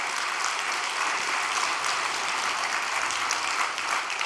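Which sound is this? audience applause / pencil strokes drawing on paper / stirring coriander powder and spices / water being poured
audience applause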